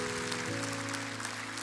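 A church congregation claps loudly together as a steady wash of applause over sustained low musical tones, continuing evenly throughout.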